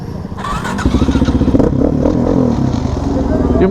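A motorcycle engine runs rough and close, with a rapid stuttering beat and popping from the exhaust, loud and continuous, and voices talk over it.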